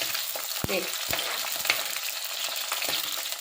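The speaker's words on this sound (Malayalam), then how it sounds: "ഞാനൊരു വലിയ തക്കാളിയും കൂടെ ഇട്ട് ഇതൊന്ന് വഴറ്റുവാണ്" Tomato sautés in a pan for a Kerala fish curry, a steady sizzling hiss broken by sharp spatula knocks and scrapes against the pan, close and clear.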